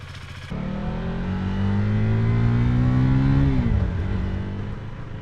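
Motorcycle engine under a beginner rider, rising steadily in pitch as it pulls through a gear, then dropping off as the throttle eases, loud and close with continuous wind.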